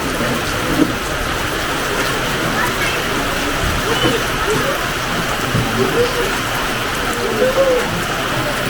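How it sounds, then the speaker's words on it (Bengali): Heavy rain pours down in a dense, continuous roar in Jim Corbett National Park, close and loud, with no break throughout. "তুমুল বৃষ্টি হচ্ছে দেখুন"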